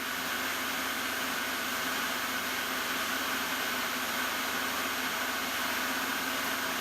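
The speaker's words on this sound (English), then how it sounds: "end mill, free flute, high helical cuts. I'm running about 1000 RPM to get the nice finish." An end mill with free-flute, high-helix geometry cuts metal dry at about 1000 RPM, no flood coolant, taking a heavy 250-thou pass; a steady, dense broadband grinding roar holds unbroken throughout, with no voices.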